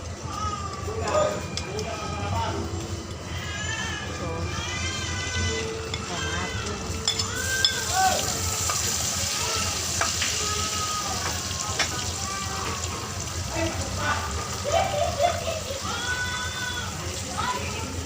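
Garlic frying in cooking oil gives a continuous soft sizzle and crackle, with someone talking over it throughout.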